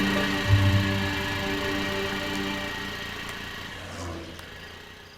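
A vehicle engine idles nearby in a low, steady hum with a brief louder bump early on, slowly fading toward the end with no one speaking.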